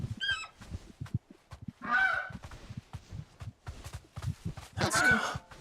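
A large chicken-like bird in the Final Fantasy 16 video game gives a few nasal honks over soft footsteps and low murmurs, with a faint voice at the start.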